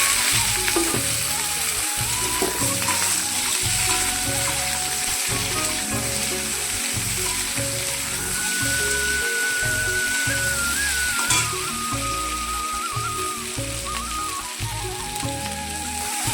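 Potatoes sizzling and frying in a pan with dried chillies, a loud, dense crackle running steadily throughout, with occasional clinks of stirring.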